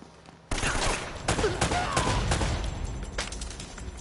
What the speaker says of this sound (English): They're shooting at you.